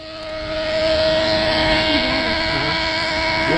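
A gas-powered RC truck engine idles steadily as it warms up, a constant nasal drone close by with a faint whine riding on top and no throttle bursts.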